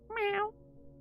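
A person imitates a cat with a single close, drawn-out meow that rises and falls.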